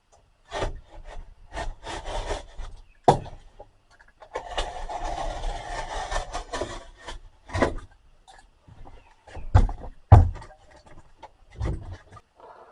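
Sheetrock drywall is cut for a ceiling, with bursts of scraping and rasping alternating with sharp taps and knocks in an irregular rhythm, close by with brief pauses.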